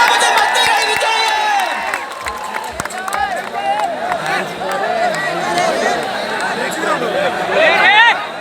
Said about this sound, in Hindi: दोस्तों, तालियों में कोई कमी नहीं होनी चाहिए